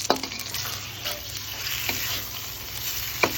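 Eggs sizzle steadily in a hot frying pan while being stirred, a utensil scraping and clinking against the pan a few times.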